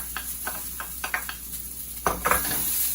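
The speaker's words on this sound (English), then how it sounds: "add our scallions, our celery, and our green peppers" Chopped scallions, celery and green peppers sizzle in a hot pan for shrimp étouffée while a spoon scrapes and stirs in quick, uneven strokes, close and fairly loud.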